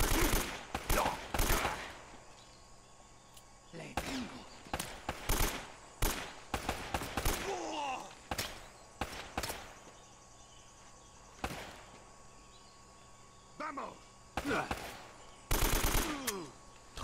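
Rapid bursts of gunfire in Uncharted 1 at a crashed-plane level, sharp shots and short automatic volleys scattered throughout, with a player's voice occasionally heard between them.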